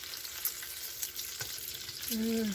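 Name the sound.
bacon frying in a hot pot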